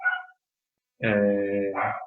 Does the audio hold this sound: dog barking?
yes